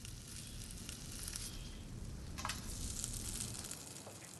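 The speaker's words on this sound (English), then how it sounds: "frying them in a preheated pan" Steady, quiet sizzling of fish frying in a preheated pan, a continuous crackle with occasional small pops, heard alone.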